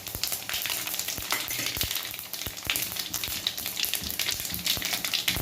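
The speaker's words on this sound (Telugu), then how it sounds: "ఈ పోపు దినుసులన్నీ మనం ఇందులో వేసుకోవాలి." Tempering spices crackle and pop in hot oil for tomato dal, a steady close sizzle scattered with sharp spattering bursts.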